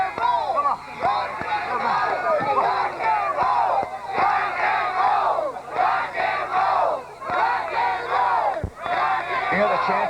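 A wrestling arena crowd chants in loud rhythmic bursts, with rising and falling shouts and cheers repeating across the whole stretch, close and dense, and no single voice standing out.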